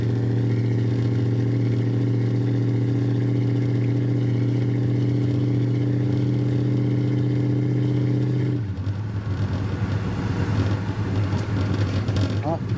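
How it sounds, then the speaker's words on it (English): A 1964 Pontiac GTO with its original 389 V8 and automatic transmission drones along at a steady cruise with strong harmonic engine hum, then the tone shifts abruptly into rougher, noisier running with road and wind rush. "Today we are in my 1964 Pontiac GTO with the original 389 and a automatic transmission behind it."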